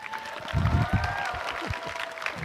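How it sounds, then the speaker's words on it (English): Audience clapping at a robotics championship awards ceremony, a short burst of applause from a modest crowd that swells and then thins out, with some mixed voices. "please give another warm round of applause to my partner all day"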